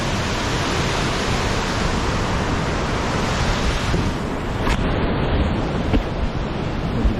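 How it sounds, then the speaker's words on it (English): A waterfall in Yosemite Valley gives a steady, loud, broadband roar of rushing water that holds constant throughout, with no voices. "The waterfall here, that is"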